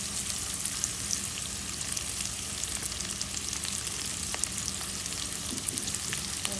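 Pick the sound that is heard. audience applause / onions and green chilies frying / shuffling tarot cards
onions and green chilies frying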